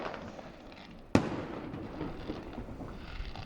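New Year's Eve fireworks in Beuern, heard from afar: one sharp distant bang stands out against a low, steady background rumble of scattered bursts.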